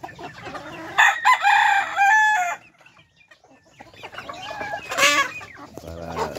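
Backyard chickens cluck loudly and close by in busy bursts, with a rooster's crow rising at the end and a short quiet gap between.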